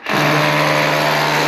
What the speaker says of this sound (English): Just drilling all these holes.